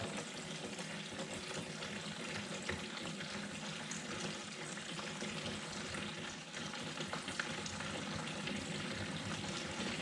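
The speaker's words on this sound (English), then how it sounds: "that running water." Steady running water from a tap, a continuous broadband splashing rush that holds level throughout with no voices.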